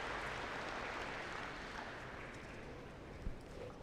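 Applause from an audience at an indoor archery national championship shoot-off, a faint, distant wash of clapping that holds steady and slowly tapers, heard alone.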